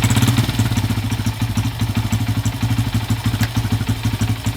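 A Honda CF80R dirt bike idles just after a first-kick start, a close, steady, fast-pulsing thump with a slightly clattery mechanical rhythm that holds even throughout.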